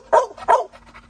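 A litter of puppies lets out two sharp, close barks in quick succession, followed by softer, fainter yips and whimpers.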